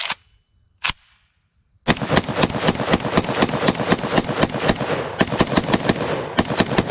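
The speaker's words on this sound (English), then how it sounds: "let's run a few more rounds through it just because. Let's let the Ace stretch its legs." Rapid semi-automatic fire from an IWI Galil Ace pistol: two lone shots, then a long, close, loud string of sharp cracks in quick, steady succession, a brief pause, and more shots.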